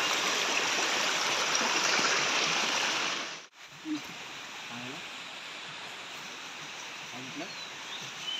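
Water rushes steadily through a freshly cleared channel in a farm field, loud and close for a few seconds before dropping to a softer, continuous flow, with brief voices nearby.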